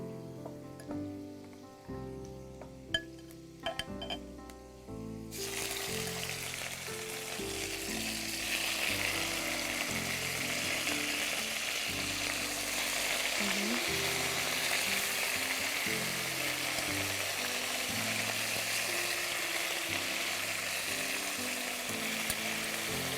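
Chicken pieces frying in a pan, starting with a few clattering drops and stirring, then a loud, steady sizzle that fills the rest of the clip with occasional stirring knocks underneath.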